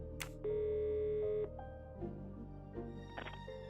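Telephone tones from the Agatha Christie Murder on the Orient Express video game: a brief beep, then a sustained one-second tone, followed by shorter dialing beeps over a low background hum, fairly faint.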